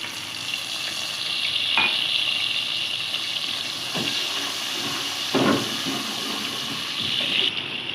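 Chopped onion with ginger, garlic and green chillies fries in a pan with a steady, close sizzle and hiss, broken by a few soft stirring scrapes.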